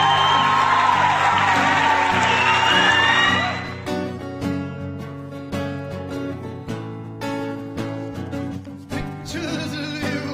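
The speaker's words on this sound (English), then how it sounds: "Give this man a nice round of applause." A crowd cheers, whoops and claps loudly for a performer for about four seconds, then the ovation gives way to music that carries on alone.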